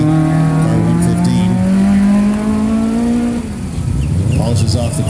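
Autocross race car at an SCCA event in Central Florida revving loudly through the course, its rising engine whine shifting and accelerating close by, with tire noise and an announcer's voice underneath.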